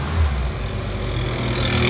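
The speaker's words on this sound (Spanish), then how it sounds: "Arranca muy bien, la camioneta no tarda en arrancar. Acelero." A 1989 Ford Ranger pickup's engine revving as it accelerates, a loud, steady low-pitched drone close by that holds its level without a break.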